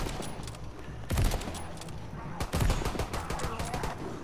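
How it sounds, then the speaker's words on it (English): Rifle fire from a Type 38 in the World War II shooter Call of Duty: WWII, with two sharp, loud single shots about a second and a half apart over a constant bed of battlefield noise and distant gunfire. "I got the type 38. The thing's still one shot."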